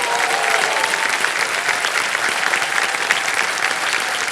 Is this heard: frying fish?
no